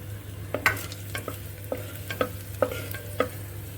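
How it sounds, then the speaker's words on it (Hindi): Onions frying in about two tablespoons of warm coconut oil for a Goan mutton xacuti, with a steady soft sizzle and several sharp stirring clinks and scrapes spaced through it, fairly quiet and close, with no talking. "प्याज डाल रहे हैं अब हम इसमें"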